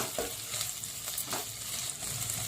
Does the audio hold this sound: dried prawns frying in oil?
yes